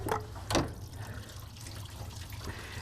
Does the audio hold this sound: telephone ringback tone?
no